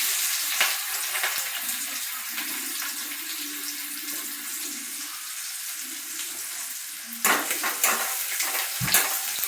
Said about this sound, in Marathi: पहिल्यांदा जिरे टाकून घेतली आणि नंतर टाकते कढीपत्ता, नंतर टाकते कांदा